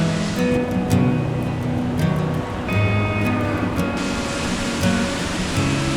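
Rushing water from a river waterfall, a steady dense roar with no breaks, close and full throughout.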